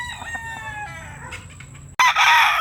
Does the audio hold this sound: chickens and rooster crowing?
yes